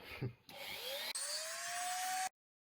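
A small power tool whines as it cuts material to mount servos in a scale RC van, starting with a brief rattle, then a rising whir held steady for about two seconds before it cuts off abruptly.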